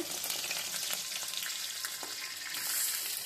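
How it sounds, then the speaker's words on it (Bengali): Oil sizzles and spatters steadily as bhetki fish fries in a pan, a close, hissing crackle with no voices. "এই তো আমি মাছ ভেজে নিচ্ছি।"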